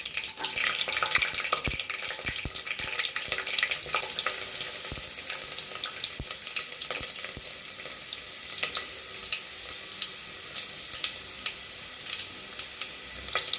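Garlic sizzles and fries in a pan for Kovai-style dal rice, a dense, steady crackling hiss with scattered sharp pops and stirring clicks, close and continuous with no talking.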